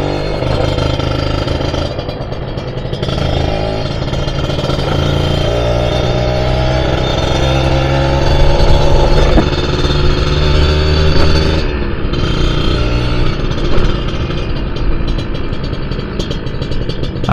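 A Kawasaki RR150 motorcycle engine runs steadily under load while riding, with shifting pitch and occasional revs, loud and close throughout.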